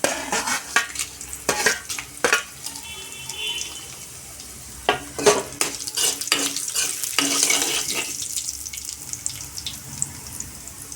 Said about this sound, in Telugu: ఇప్పుడైతే నేను ఎండుమిర్చి చేసేసుకుంటున్నాను